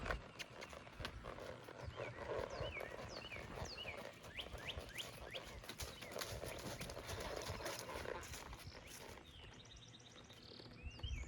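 A horse trots with rhythmic clip-clop hoofbeats in an outdoor setting, soft and steady, with faint bird calls in the background.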